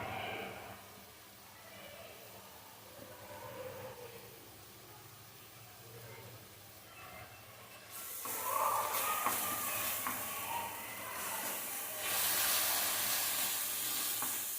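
Pav bhaji masala frying in a pan, a soft, steady sizzle that grows noticeably louder and brighter halfway through and continues faint and even to the end.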